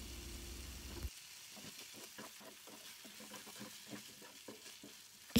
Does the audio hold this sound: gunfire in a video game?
no